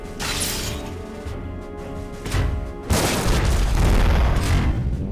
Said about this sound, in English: Oh shit, rocket launcher!